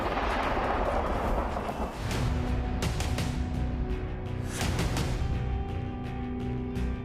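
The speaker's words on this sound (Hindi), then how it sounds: "इसके बाद एक जोरदार धमाके की आवाज सुनाई देती है" A heavy helicopter crash explosion rumbling loudly, with repeated deep booming blasts rolling over several seconds above a steady low drone.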